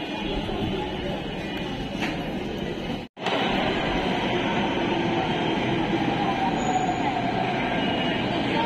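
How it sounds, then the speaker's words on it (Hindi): A Delhi metro train arrives at a station: a loud, continuous roar and rumble of rolling carriages, broken by one brief dropout, with a faint high squeal creeping in later. "तो गाइस हमारी आ चुकी है मेट्रो."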